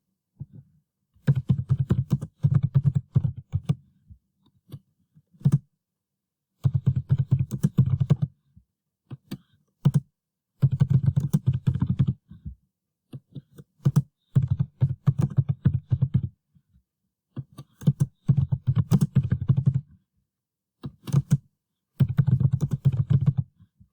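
Fast bursts of close computer keyboard typing, a crossword clue being entered in Estonian, each burst of rapid key clicks lasting a second or two and separated by short silent pauses, with no talking.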